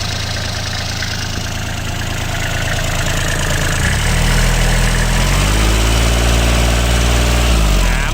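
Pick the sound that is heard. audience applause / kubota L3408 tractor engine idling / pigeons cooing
kubota L3408 tractor engine idling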